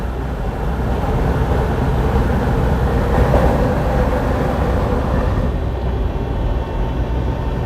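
A Union Pacific freight train passes near Soda Springs, Idaho, heard from a truck on the highway as a loud, continuous low rumble and roar that holds steady for several seconds and eases slightly toward the end.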